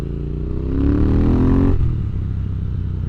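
A Triumph RS motorcycle with a tuned aftermarket exhaust revs up close by, its engine note rising sharply then dropping back to a rough idle.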